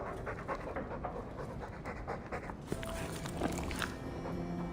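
A Mabari war dog from the video game Dragon Age 2 pants in steady, close breaths, joined partway through by light chewing or shuffling movement.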